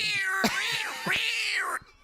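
A person's voice convincingly mimics a cat, giving a few drawn-out, rising and falling meows in quick succession, close and clear.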